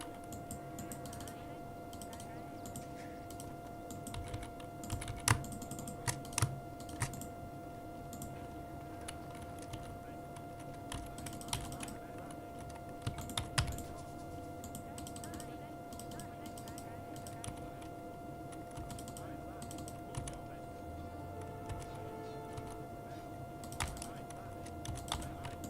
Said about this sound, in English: nothing but clicking and keyboard noises